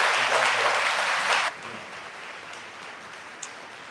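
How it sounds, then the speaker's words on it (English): Luncheon audience giving a big round of applause, a dense burst of clapping that drops off sharply after about a second and a half, leaving a thinner patter of scattered claps and room noise. "Can we give God and Jesus and Barbara a great big round of applause?"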